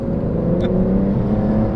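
A 712hp Aston Martin supercar pulls away under light throttle on a wet road, a steady, loud low engine drone with tyre and road roar, heard from inside the car with no speech.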